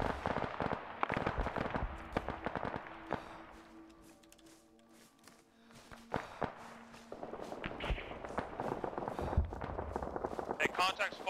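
Rapid small-arms gunfire in an Arma 3 multiplayer battle, sharp cracking shots in bursts, loud at first, easing off mid-way, then resuming densely, with voices talking over radio throughout.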